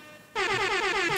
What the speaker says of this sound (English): Let me hit an air horn, man.